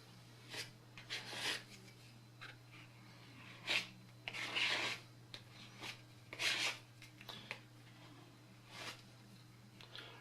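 Solder paste scraped across a stencil over circuit board pads, giving faint, soft rasping strokes in short bursts with pauses, over a steady low hum.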